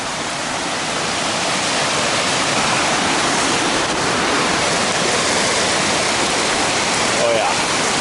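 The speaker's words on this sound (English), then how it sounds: "Up the waterfall I go." A mountain waterfall at high altitude roars close by in a steady, dense rush of falling water that fills the whole scene without a break.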